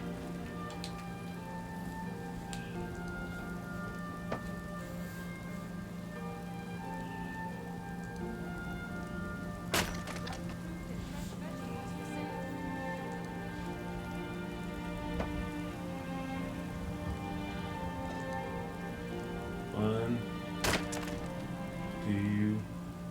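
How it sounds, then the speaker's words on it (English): Steady rain falls in Skyrim, a continuous soft patter with a low ambient hum beneath, broken by a few sharp knocks and thumps near the end. "Look up, yeah, it's raining."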